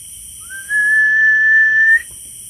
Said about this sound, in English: Near the corn, a whistle suddenly comes from the darkness.